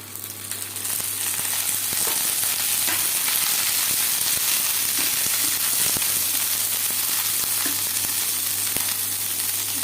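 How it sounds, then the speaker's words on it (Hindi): Okra (bhindi) frying in oil in a pan, a steady close sizzle with faint crackles and occasional stirring scrapes, continuous throughout with no talk. "तो मेरा भिंडी देखिए बिल्कुल फ्राई हो गया है खूब अच्छे तरह से"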